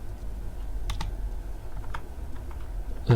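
Steady, quiet clicking of a computer keyboard as code is typed, with a few sharper keystrokes standing out and no voices.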